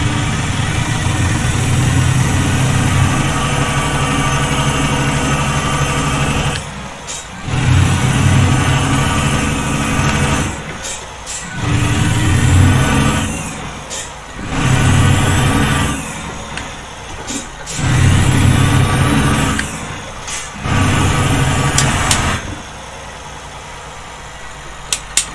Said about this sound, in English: this is one of the Cummins default truck motors